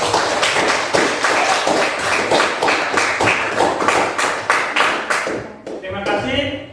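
A classroom group claps for a presenter during a teaching session, dense, close applause with a steady rhythm that lasts about five seconds before fading into light chatter.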